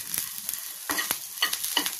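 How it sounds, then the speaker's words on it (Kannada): Hyacinth bean dal (avare bele) being stirred and fried in a pan, with close crackling sizzle and intermittent scraping strokes of a spoon every fraction of a second, no voices. "ನೋಡಿ ಈಗ ಇದು ಫ್ರೈಯಾಗಿದೆ"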